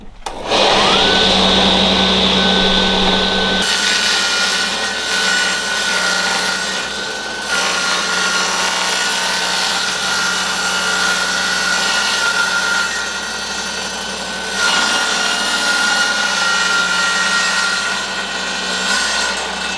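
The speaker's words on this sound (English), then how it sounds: "we'll just take that down on the table saw" Table saw cutting a painted MDF board: a loud, steady motor whine and rough cutting noise run for about twenty seconds, with a brief spin-up at the start and no talking.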